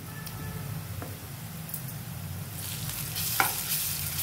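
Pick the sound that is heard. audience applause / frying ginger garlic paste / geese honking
frying ginger garlic paste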